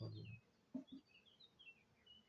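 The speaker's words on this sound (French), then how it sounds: "On va écouter les oiseaux." Faint, distant birds chirp and call near beehives at a Jura apiary in springtime, with short high tweets repeating in a quiet outdoor setting and a few low thumps at the start.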